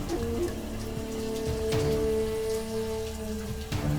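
Steady rain falls in an outdoor scene from a Pakistani drama, a dense close patter with a faint tonal hum beneath and occasional louder drips.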